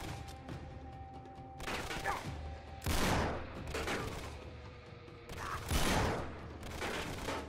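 A Tau Sniper rifle fires in the video game Uncharted 3, with three loud, booming shots spaced a couple of seconds apart over rumbling game ambience and no talking.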